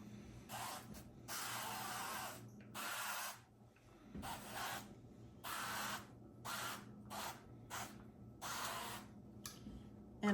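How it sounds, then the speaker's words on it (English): Repeated short hissing sprays of avocado oil come in quick bursts, close and fairly quiet, with brief pauses between them. "now I'm just going to put a little spray of avocado oil"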